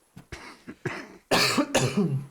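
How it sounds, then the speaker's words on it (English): A video game character in Disco Elysium - The Final Cut coughs, a few short hacking coughs at first and then two long, loud, harsh coughing fits close to the microphone. "Stop coughing! Stop making me cough!"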